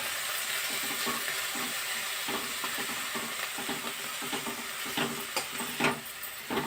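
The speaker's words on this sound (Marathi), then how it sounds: "पहा हलवायची व्यवस्थित ती भाजी." A spatula stirs drumstick leaf (shevga) sabji as it fries and sizzles in a pan, giving a steady close hiss broken by irregular scraping strokes, with no talking.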